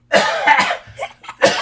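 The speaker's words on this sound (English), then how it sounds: "I feel like I have to cough." A person coughs at close range, two harsh bursts separated by a short pause.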